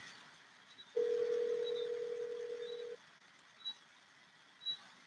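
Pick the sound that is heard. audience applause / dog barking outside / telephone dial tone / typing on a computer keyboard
telephone dial tone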